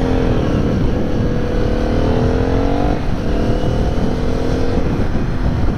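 A motorcycle engine roars steadily at close range, its pitch rising and falling slightly as the throttle shifts during riding.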